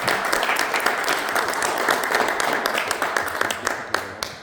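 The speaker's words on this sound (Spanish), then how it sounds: "Un aplauso para César," An audience at a rock conversation event applauds for César, a dense run of clapping that thins toward the end into scattered individual claps.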